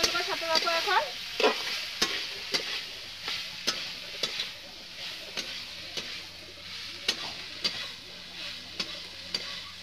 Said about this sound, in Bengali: এখন নাড়াচাড়া আমি করে নেবো, সবটাকে ভালোভাবে মিক্স করে নেবো ছাতুটাকে এখন।